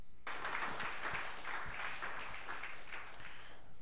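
Congregation clapping together inside a church during worship, a dense, steady burst of applause that starts abruptly and carries on evenly throughout, fairly distant and reverberant.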